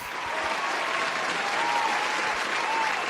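Applause played over the sound system at a birthday party, a steady, full crowd-clapping wash lasting the whole stretch with a faint tonal hum underneath.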